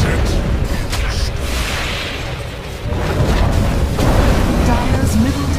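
A tower crumbling in a Dota 2 match, a dense rumbling boom and debris crash that swells and holds loud, with a game announcer's voice over it.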